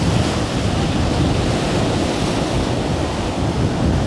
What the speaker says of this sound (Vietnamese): Sóng nó cao ghê chứ.